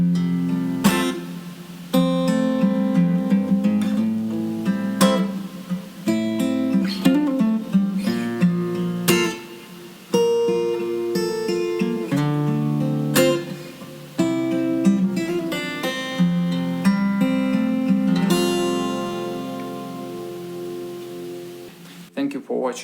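Strummed guitar chords ring out one after another in a steady progression, each chord struck and left to sustain, played alone and up close.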